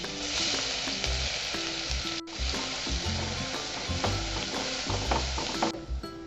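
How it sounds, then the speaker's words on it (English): Garlic cloves fry in hot olive oil with a dense, bright sizzle that holds steady, broken by a brief dropout and faint utensil taps, close up and with no talking. "Now when the oil is hot, we are going to add garlic."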